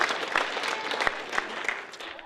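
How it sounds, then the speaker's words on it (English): Students and families at the Vermont History Day state contest clap for themselves, a fairly light round with distinct individual claps and some crowd murmur beneath. "You should applaud yourselves"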